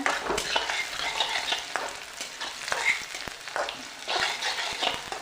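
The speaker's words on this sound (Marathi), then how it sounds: "कांदा व्यवस्थित तेलामध्ये भाजून घ्यायचा" Onion frying in oil in a pan while being stirred, a steady close sizzle with scraping stir strokes recurring throughout, no talk.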